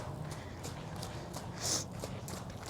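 Year-old young horse trotting during training, a steady rhythmic clip-clop of hooves at moderate distance, one brief louder scuff partway through.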